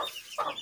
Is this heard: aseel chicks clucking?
yes